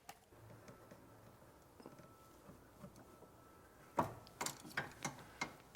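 Clamp on a gas line of a Honda Accord being released, heard as a quiet stretch of faint handling followed by a burst of sharp metallic clicks and ratcheting snaps, close up.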